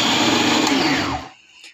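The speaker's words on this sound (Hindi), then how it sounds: "ये मैं मिक्सर में मिक्स करूँगी।" A kitchen mixer grinder whirs loudly as it blends sweet corn, kidney beans, carrots, onion and sweet chilies, running steadily up close before spinning down and stopping.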